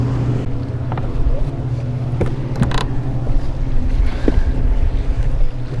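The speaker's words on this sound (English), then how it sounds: "This boat traffic is getting crazy." Boat engines drone steadily on a lake during fall crappie fishing, a low continuous motor hum with passing craft, creaks and water slaps layered over it at close to moderate distance.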